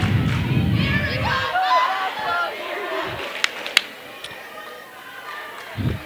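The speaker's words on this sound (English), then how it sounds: "the Buffalo crowd trying to get loud here and help the Buffaloes out here" A home crowd at a high school boys' basketball game between the Jones County Coyotes and Stanley County Buffaloes rumbles and chatters during a timeout. The noise is loudest at the start, then thins to a murmur with scattered thuds and a few sharp clacks.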